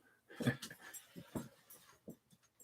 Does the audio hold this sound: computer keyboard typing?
no